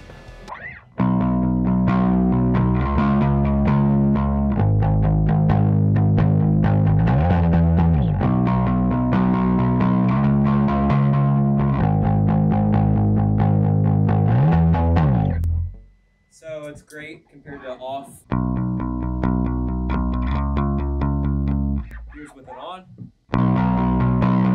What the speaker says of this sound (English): Distortion pedal, I love it.